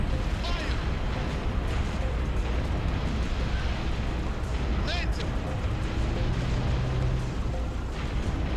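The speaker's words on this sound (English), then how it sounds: "we're just going to use rockets on them" Rocket launcher blasts in the Halo Reach video game, a few booming explosions at about 0.5 and 5 seconds within dense continuous game noise, with speech present throughout.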